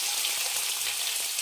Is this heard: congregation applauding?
no